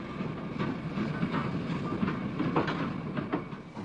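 An LNER B1 steam locomotive hauls a train along the Waverley Line with a steady rumble and rhythmic clickety-clack of wheels over rail joints. It sounds moderately near and continuous, with no voices.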